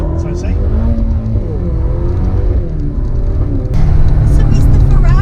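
A Ferrari GTC4Lusso T accelerates, its engine note climbing and dropping through quick double-clutch gear changes, loud and close, with a voice talking over it throughout.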